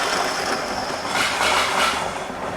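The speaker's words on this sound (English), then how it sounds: "We're just going to try to get a good shot of the Pendolino coming past." A model railway Pendolino train runs past on a layout, its steady rolling rumble and wheel clatter holding at an even level throughout, with no talking.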